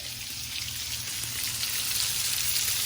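Salmon sizzles in a pan, a soft, steady hiss and crackle of frying that grows slightly louder over a few seconds, with no talking.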